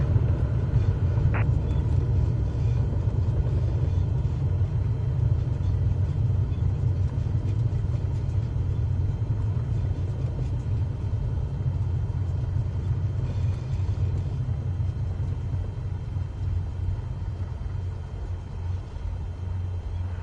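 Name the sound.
airplane braking to a stop on runway in video game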